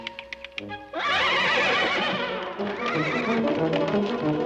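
A horse neighs loudly in a stretched-out whinny that starts about a second in and carries on steadily to the end, with a few softer sounds before it, in a western TV episode.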